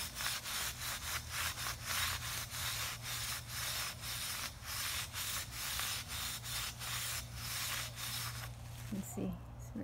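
Hand rubbing rust off a chrome metal storage rack, a rhythmic back-and-forth scrubbing with evenly spaced strokes, close and steady, with a brief rattle near the end.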